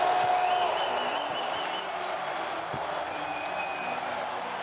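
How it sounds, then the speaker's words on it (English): Indoor stadium crowd at an XFL football game between the Arlington Renegades and St. Louis Battlehawks in a St. Louis dome, a steady roar of cheering and applause with whistles, heard distantly under faint talk. "this crowd fired up inside the dome"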